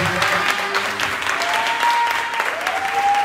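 A church congregation applauds steadily for about three seconds, with a sustained wash of clapping and faint singing or voices underneath.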